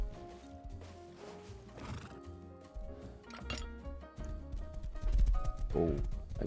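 A horse in a video game neighs and whinnies, with clip-clopping hooves over a busy layer of game music and effects, the sounds rising louder toward the end.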